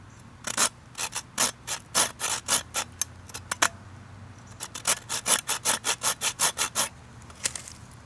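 Knife carving number 7 notches into a wooden stick for a split-stick figure-4 survival trap: close, rhythmic bursts of scraping strokes, a run of strokes, a brief pause, then a faster run of strokes.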